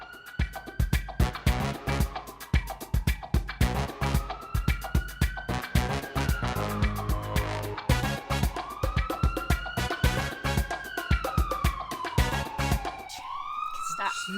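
A wailing siren rises and falls in repeated sweeps, loud and close, over a dense barrage of sharp clattering hits and voices.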